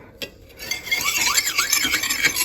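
Steel knife blade with badly nicked edge rasped repeatedly across a river stone used as a sharpening stone, a steady close scraping grind with rhythmic back-and-forth strokes after a brief quiet start.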